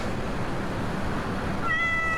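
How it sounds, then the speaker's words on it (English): A cat meows in the SiN Episodes video game, one short tonal meow near the end rising over a steady background hiss. "Cat sounds."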